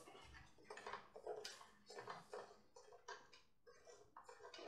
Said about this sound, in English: Now use the spoon and stir it up.